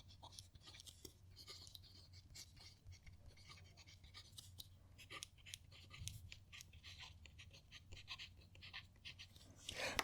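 A Visconti Homo Sapiens fountain pen with a fine nib and Diamine ink scratches across paper up close, quick soft strokes in an uneven rhythm with brief pauses.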